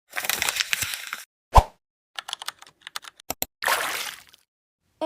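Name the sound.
editing sound effects: keyboard typing, waves, paper uncrumbling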